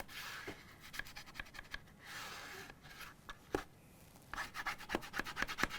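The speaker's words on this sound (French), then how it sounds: "Je prends mon plioir et je vais maroufler" A bone folder pressed and rubbed over freshly glued paper on cardboard: repeated short scraping strokes, some quick and rhythmic, others longer swishes, close up and fairly quiet with no talking.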